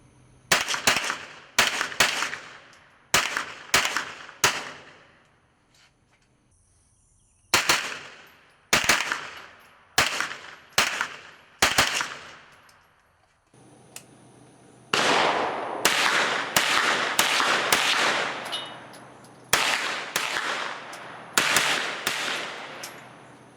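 Gunfire from a Wilson Combat AR9 9mm carbine with an adjustable stock, fired outdoors: loud sharp shots in quick strings and bursts, sometimes several close together, with gaps between groups and a steadier dense stretch of rapid shots near the end.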